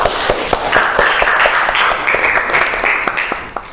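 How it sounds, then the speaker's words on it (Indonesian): Audience applause after group presentations in a classroom lesson, a steady wash of many hands clapping that holds loud for several seconds before tapering at the end. "Mari kita berikan aplaus untuk kita semua"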